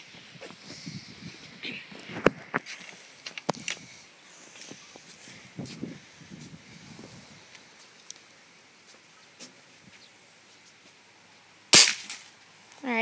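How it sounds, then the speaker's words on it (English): A Beeman air rifle fires at a can: a few sharp, dry snaps scattered among quiet handling noises, with one louder crack near the end. "We're gonna shoot the ball, or we're gonna shoot the can again."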